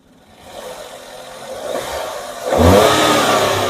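A used Celerio Automatic VXI car in good condition revs its engine. It starts from a quiet idle, builds steadily, then surges sharply into a loud, sustained roar close by.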